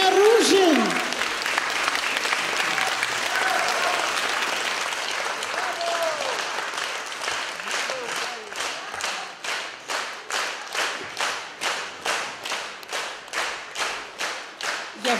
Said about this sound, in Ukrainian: Ваші оплески, поетеса Зоя Ружин